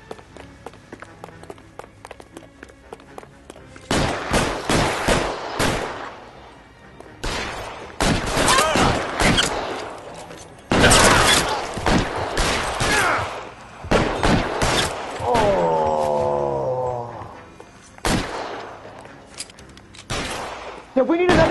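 Gunfire in a shooter video game comes in loud, sustained bursts of rapid shots separated by short pauses. Voices speak between the volleys, and a brief warbling tone cuts through midway.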